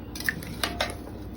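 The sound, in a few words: potatoes being added to a pot of rump roast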